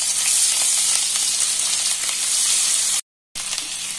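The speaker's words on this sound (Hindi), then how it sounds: "इसमें मैं अभी अदरक डाल दूंगी, ये मैंने थोड़ा सा अदरक कस कर रखा है वो डाल देंगे और इसको हल्का सा सौते कर लेंगे" Grated ginger sautéing in melted butter, a steady close sizzle and crackle of frying that runs unbroken, cuts out for a moment near the end, then resumes.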